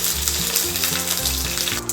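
Mustard seeds, chillies and curry leaves sizzling and spitting in hot oil in a pan for a Kerala pineapple pachadi, a loud steady crackle close up with no talk.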